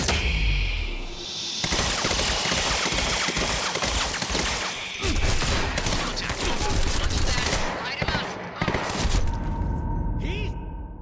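Dense, loud gunfire from the Quantum Break video game fills nearly the whole stretch, with rapid overlapping shots, crashes and bursts of debris continuing without pause.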